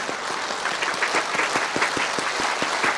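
Applause from a concert audience at a Mongolian music performance, a broad wash of many hands with some sharper individual claps standing out at a fairly regular pace, steady and fairly loud.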